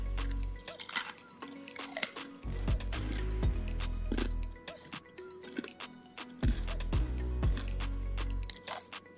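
Freeze-dried Kent mango crunched while eating, heard as soft, close crackling bites and chewing with scattered crisp snaps at low level, a few louder crunches standing out.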